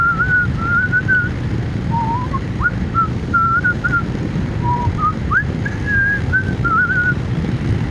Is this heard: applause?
no